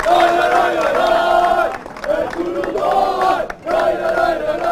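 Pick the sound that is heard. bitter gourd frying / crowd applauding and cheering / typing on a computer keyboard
crowd applauding and cheering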